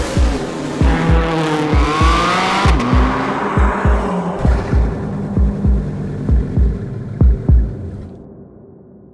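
A 390 hp Cupra Formentor VZ5 with a five-cylinder engine, driven on closed roads, revs loudly and close by through a series of rising gear pulls with sharp upshift pops and crackles before fading away.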